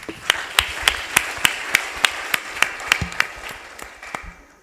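Church congregation clapping in rhythm during a Rwandan revival gathering, sharp evenly spaced claps about every third of a second over a steady wash of crowd applause, fading near the end.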